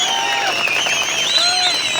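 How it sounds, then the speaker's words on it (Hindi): A crowd at a political gathering in Doda, Jammu and Kashmir, applauds loudly: a continuous broad roar of clapping and cheering, with shrill whistle-like voices rising over it for the whole stretch. "जोर से तालियां धमाल"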